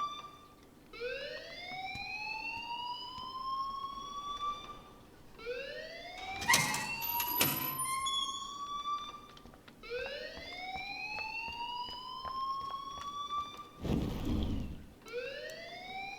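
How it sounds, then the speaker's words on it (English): A school fire alarm in the video game Life is Strange whoops in repeated rising sweeps, each lasting a couple of seconds, loud and steady, with a few brief clatters between cycles and no talk. "please turn off that alarm since that's your job"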